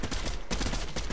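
Rapid, loud, dense gunfire from the video game Fortnite, with bursts of shots crowding together and filling the whole short moment.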